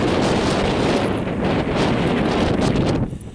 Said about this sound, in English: Ah, the wind's died down a little bit, thank goodness.